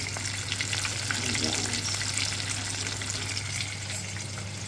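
Pork Shanghai spring rolls fry in hot oil with a steady, dense sizzle and crackle that holds throughout, close and moderately loud, with no talking.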